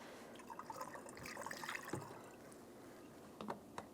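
Coolant poured into the reservoir of a 1998-2010 Volkswagen Beetle, a faint liquid trickle and splash with a few brief louder glugs near the end, recorded quietly in a garage setting.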